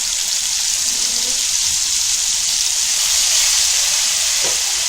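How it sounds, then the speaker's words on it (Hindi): Spice paste with ground curry leaves frying in a pan, a steady, even sizzle that holds at the same level throughout with no voices. "अभी मसाले को इसके अंदर भूनेंगे अच्छे से"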